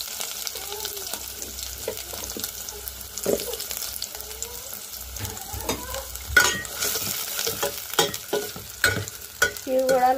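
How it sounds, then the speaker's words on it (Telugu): Onions and green chilies fry with peanuts in a steel kadai, giving a low steady sizzle broken by scraping stirs and metallic clinks, with faint background sounds. "అవన్నీ బాగా ఫ్రై అయిన తర్వాత ఉల్లిపాయ పచ్చిమిర్చి కూడా వేసేసుకున్నాం."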